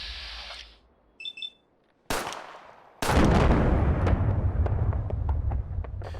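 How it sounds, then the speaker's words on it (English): A mine detonates at close quarters in Fallout 4 with the Commonwealth Warfare explosions mod: after a few quiet game beeps, a sharp blast hits, then a heavy rumbling boom with crackling debris that rolls on and slowly decays. "The sound of a mine going off in a close quarters encounter now sounds like it is as dangerous as it actually"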